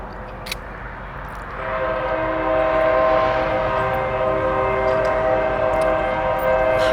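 A CN freight train horn sounds steadily and loudly over the rumble of the passing train at Champion, holding its chord for several seconds after a faint start.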